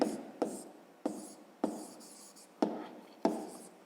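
Pen strokes scratch across paper while a math answer is written down, six distinct sharp scrapes each starting with a tap and trailing off in a steady rhythm, close and clear with no talk.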